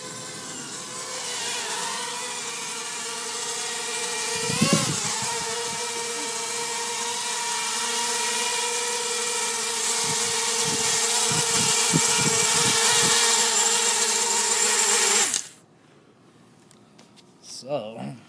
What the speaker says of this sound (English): so far, these are the smoothest running props out of all that I've tried